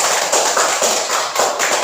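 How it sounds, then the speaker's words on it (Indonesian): Children in a classroom clap after singing a song about planting corn, a quick patter of small hands in uneven bursts, close and fairly bright, with no talking over it. "Terima kasih, tepuk tangan dulu"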